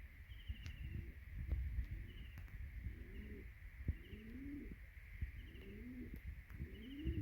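Pigeons coo repeatedly on a house rooftop, their soft rolling calls coming in a loose series over faint background hiss and distant chirps, with no voices.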